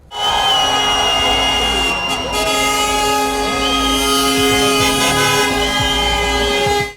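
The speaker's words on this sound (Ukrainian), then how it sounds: "машини, що проїжджають повз, гучно сигналять" Loud, sustained horns blaring together over continuous traffic noise, several overlapping tones holding steady with occasional shifts.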